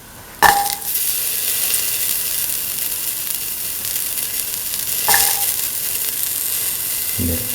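Shallots sizzle steadily in a hot pan, a constant frying hiss throughout, with two sharp metallic clinks of a utensil against the pan and a soft knock at the end.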